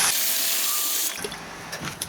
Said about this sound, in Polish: Pierwszą rzeczą jest nalanie wody do opryskiwacza